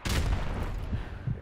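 Sniper rifle fire in Modern Warfare Remastered on the Creek map: a loud, close shot bursts out and rumbles on, with a quieter thump or two following, and no voices.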